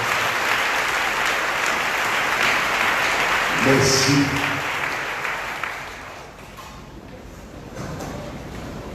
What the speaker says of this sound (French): nous baillons notre acclamation très fort